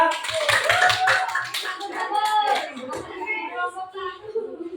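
Audience applause for a presenting group in a classroom peer-teaching session: a burst of close hand claps at the start, overlapping with talking voices that continue as the clapping fades.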